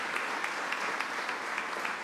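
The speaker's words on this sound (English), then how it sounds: "Let's give him a round of applause." Continuous audience applause at a governor's press briefing on Albany infrastructure investments, a dense and even clapping sound with a few louder claps standing out.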